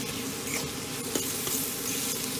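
Coriander powder sautés in a pan for an egg roast curry, giving a steady, close, buzzing sizzle throughout with a few faint taps of a stirring utensil.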